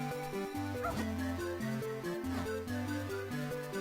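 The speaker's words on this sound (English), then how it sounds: "We can't get through here because there is a dog in the way." Dog barks and whimpers from The Legend of Zelda: The Minish Cap video game, short repeated yips sounding over steady chiptune-style background music for a few seconds.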